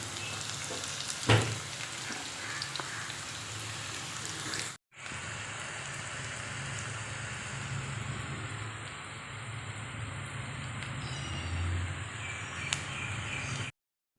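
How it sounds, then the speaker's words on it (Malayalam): Finely sliced onions fry in coconut oil with a close, continuous crackling sizzle, broken once by a brief gap, with a few sharper pops scattered through. "പാന് ചൂടാക്കി ഒരു വെളിച്ചെണ്ണ ഒഴിച്ച് കൊടുത്തിട്ട് നമ്മൾ സവാള നൈസായി വരുന്നത് ഇതിലേക്ക് നമുക്ക് ഇട്ട് കൊടുക്കാം"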